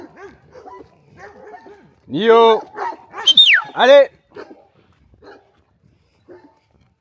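A small, scrappy pet dog barks and yips in a loud burst of several sharp, pitched barks midway through, close by, with someone talking quietly before and after.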